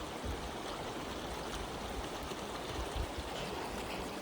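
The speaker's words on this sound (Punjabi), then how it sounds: "ਇਹ ਉਹ ਤੱਕ ਬਹੁਤ ਖੂਬਸੂਰਤ ਝਰਨੇ ਦਾ ਰੂਪ ਲੈ ਲੈਂਦਾ ਥੱਲੇ ਡਿੱਗਦਾ" Sarovar water at the Golden Temple spills down like a waterfall, a dense, steady rushing stream that roars continuously at close range without pause, with no voices over it.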